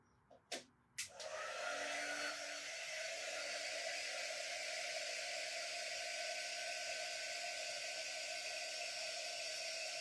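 A hair dryer drying painted faces on a stacked pumpkin craft starts after a couple of sharp clicks and then holds a loud, steady blowing whoosh close by with no talking.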